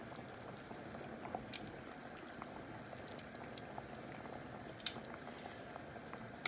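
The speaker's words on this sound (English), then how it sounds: "this is bubbling here. It came to a boil." Polenta in a pot at a rolling boil makes soft, steady bubbling with scattered sharper pops, heard up close and alone.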